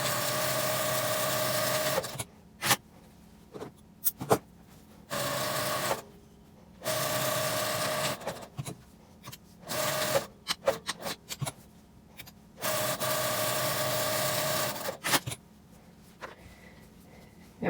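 A sewing machine straight-stitches fabric for a face mask in several sustained runs of a few seconds each, close and loud, separated by short gaps with clicks and handling noises.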